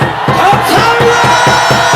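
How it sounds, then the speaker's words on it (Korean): A large rally crowd shouts and cheers loudly in a dense, rhythmic roar of many voices, rising in pulses close at hand. "함성 한번 질러주십시오."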